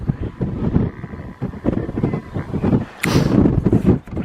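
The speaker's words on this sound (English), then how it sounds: "it's a bit windy" Wind buffets the microphone in loud, irregular rumbling gusts, with a sharper rush of air near the end.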